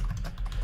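Quick, steady clatter of computer keyboard keys being typed, close and continuous, with no voices.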